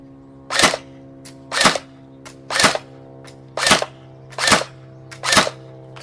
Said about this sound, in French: On va faire le test de tir à 25 mètres sur un mannequin à taille réelle juste là-haut.